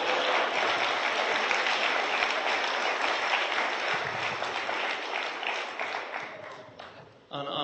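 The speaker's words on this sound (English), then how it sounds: "could I have a big round of applause for the groomsmen" Wedding guests at the reception give the groomsmen a big round of applause, a dense, loud burst of clapping that holds steady for several seconds before tapering off, with voices mixed in.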